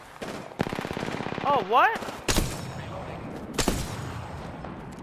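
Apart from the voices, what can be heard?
gunfire in the video game Apex Legends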